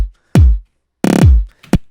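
Glitchy drum effect built from a kick drum sample for drum and bass, its attack looped very fast. It comes as three loud bursts, each with a falling low thump and a stuttering buzz, the middle one longest, with short silences between.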